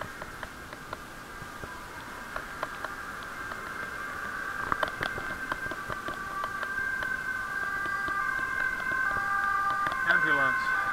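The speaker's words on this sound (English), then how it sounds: "Some siren, fire truck, police, don't know." An emergency siren in a Dutch street, a fire truck, police car or ambulance, wails steadily at a moderate distance, its tone sweeping and holding, with faint street noise beneath.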